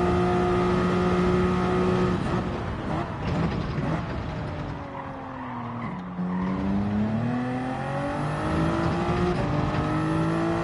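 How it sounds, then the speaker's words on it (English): Grunty car engine with strong low-down torque in Gran Turismo 7, revving and rising in pitch through the gears, then dipping and climbing again, with tire scrubbing underneath. "It's a bit of a grunty motor too at the end of the day"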